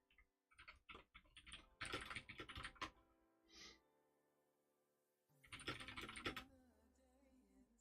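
Bursts of close typing on a computer keyboard: rapid clicky keystrokes in uneven runs with short pauses between them.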